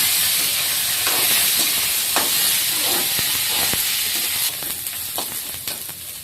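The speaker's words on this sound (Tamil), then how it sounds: "தக்காளி, கொத்தமல்லி எல்லாம் ஆட் பண்ணி வதக்கிடலாம்." Tomato and coriander sautéing in a pan give a steady close hiss and sizzle, with a few soft stirring scrapes and clinks breaking through now and then.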